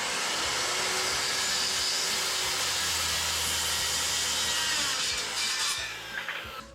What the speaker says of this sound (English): I hate recip saws. Okay, one last cut.